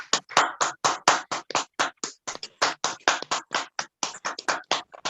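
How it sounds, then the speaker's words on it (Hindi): Clapping at a business home meeting or webinar, a quick series of sharp, loud claps close to the microphone with a steady beat and short gaps, like a few people clapping rather than a large crowd, with no talk over it. "एक बार जबरदस्त तालियों के बीच"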